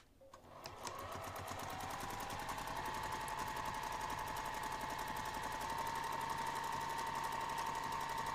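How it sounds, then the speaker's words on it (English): A sewing machine stitches a pinned fabric edge with a quarter-inch seam allowance, running steadily and loudly, its rapid needle whir holding an even pace from start to finish with no talking. "we're going to take this over to the sewing machine and sew this pinned edge"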